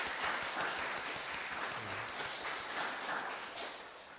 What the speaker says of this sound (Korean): 잘 가시라고 환성 박수 드리겠습니다.